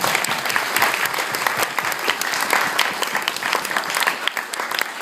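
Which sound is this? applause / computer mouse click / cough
applause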